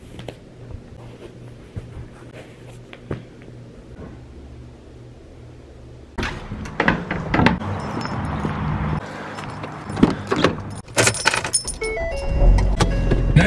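A car's air conditioning runs on a hot day. At first it is a faint, airy hiss, then it blows noticeably louder partway through, with scattered clicks and a light jangle of keys.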